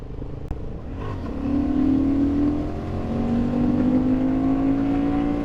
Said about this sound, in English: And the engine braking on it is really good as well. Got a lovely, lovely motor.